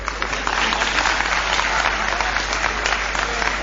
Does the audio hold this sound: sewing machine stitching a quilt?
no